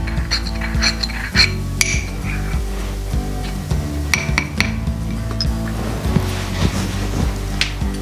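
Honey and lemon juice being stirred together for a face mask in a glass bowl, giving close, repeated clinks and scraping taps against the glass with no talking.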